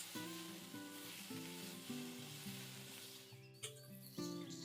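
Lamb shoulder sears in a cast-iron potjie pot over a fire, a faint steady sizzle beneath prominent melodic background music.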